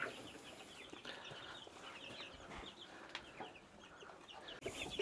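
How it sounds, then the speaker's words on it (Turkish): Many newly hatched chicks peep and cheep together in a busy, high-pitched chorus, soft and continuous, with faint clucking mixed in. "Kuluçka'dan yeni çıkan civcivlerimiz var"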